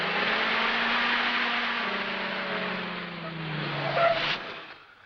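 A car in an old radio-serial drama pulls over and skids to a halt, with a steady engine drone and a long tire squeal rising near the end before the motor dies away, close and loud.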